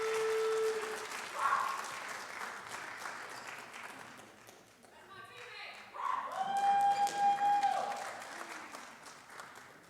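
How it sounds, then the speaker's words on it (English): Applause for award winner Zariah at a college honors night, a moderate crowd clapping with a dip partway through, voices and other noises mixed in. "So clap it up for Zariah."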